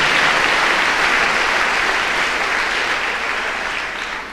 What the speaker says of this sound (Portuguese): Dê um aplauso ao Senhor, Ele é a garantia da sua prosperidade.